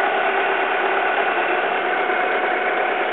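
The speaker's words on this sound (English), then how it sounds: "So that's the engine running." A 2001 Alfa Romeo 147 T Spark engine idles close by, a constant buzzing hum with even vibration and no change in pitch, loud and uninterrupted.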